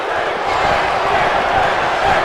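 A dense arena crowd in WWE 2K17 at Madison Square Garden, New York, chants and roars for Finn Balor, a steady loud wash of massed voices with no break.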